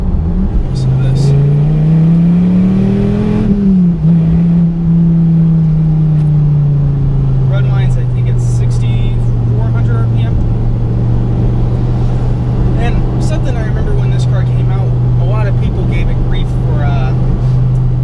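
A Dodge Viper's engine revs up and then settles into a deep, steady drone, loud and close, while a person talks over it.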